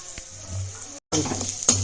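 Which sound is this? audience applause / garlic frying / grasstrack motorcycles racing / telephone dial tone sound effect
garlic frying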